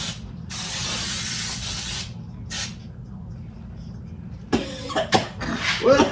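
A can of Pam cooking spray hisses in a couple of sharp bursts, one long and one short, in a home kitchen while baking a cake, followed by clattering and rustling handling noises nearby.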